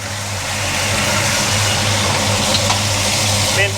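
A Chevrolet Monte Carlo engine, just fitted with upgraded brakes, idles steadily close by, a constant low rumble with a faint hiss above it and no speech.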